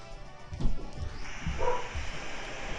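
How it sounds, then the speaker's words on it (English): Dogs bark and yip through a few seconds, with short repeated calls at moderate distance amid a steady background hiss. "The dogs are gonna bark because they didn't like that."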